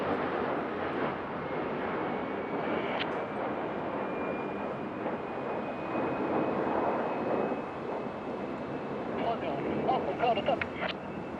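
Patrouille de France jets fly past at the 2023 Paris Air Show at Le Bourget, heard as a steady, broad roar that fills the whole stretch with faint voices underneath.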